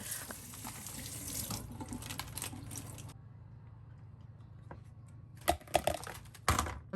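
Romaine lettuce is rinsed under a running kitchen tap, a steady splashing stream that stops halfway, followed by a few sharp crinkly leaf handling sounds and another short burst of water.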